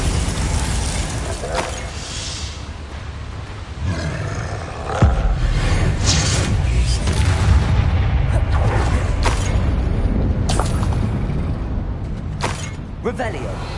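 Blasting spell explosions from the video game Hogwarts Legacy, loud booming hits and crackling bursts over a dense roaring battle din, with voices shouting spells amid the noise.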